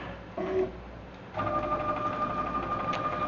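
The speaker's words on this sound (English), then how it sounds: "we're just gonna move the machine over to roughly 0 here." A CNC router jogs along its axes in a workshop while making a Longworth chuck, its stepper motors giving a steady mechanical whine that shifts pitch partway through and runs continuously at moderate volume.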